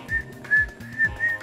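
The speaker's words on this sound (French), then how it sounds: "Est-ce que tu sais siffler, Kevin?" Short, clear whistled notes repeat in quick succession at a televised talent show, a high bright tone with soft low thumps underneath.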